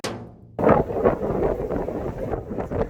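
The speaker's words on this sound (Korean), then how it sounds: "바람 불어가지고 뭐 아무것도 못해" Strong wind blows outdoors on Jeju Island, buffeting the microphone with a loud, continuous low roar and rumble that rises and gusts after a brief quieter start.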